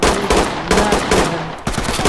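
Loud, rapid automatic gunfire in a SWAT video game: dense overlapping bursts of shots that continue with almost no break, close and harsh.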